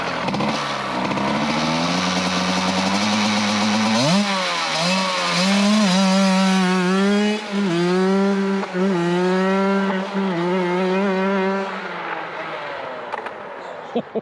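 A go kart fitted with a CR80 motorcycle engine, choke on, runs and revs hard, its loud, buzzing note climbing and wavering through repeated throttle blips before easing off near the end.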